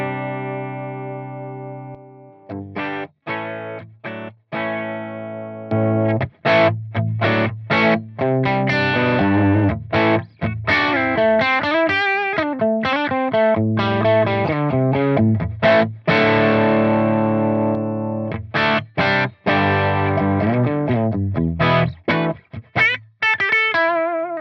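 Dry electric guitar played through a Neural Amp Modeler amp profile, a loud, distorted tone with chorus-like shimmer, picking out a steady run of chords and single notes alone for over twenty seconds.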